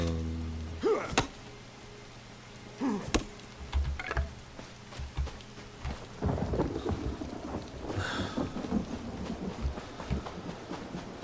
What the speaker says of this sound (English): I think it's probably because of the rain.